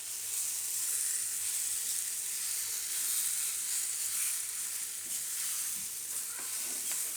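Raw banana and peanut khichdi stirred in a hot pan, giving a steady, close sizzle with soft scraping strokes that continue without pause and no talk.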